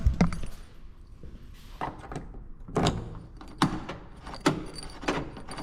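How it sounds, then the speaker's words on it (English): Sharp mechanical clunks of a snow plow truck's door lock actuating, several distinct thunks spaced a second or so apart, close and clear against a quiet background. "So you can hear it locking and unlocking."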